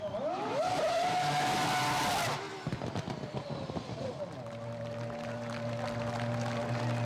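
A Formula One race car accelerates hard with the engine rising through the gears, loud and close, then a sharp cut and crackling pops as it settles into a lower steady drone with talk underneath.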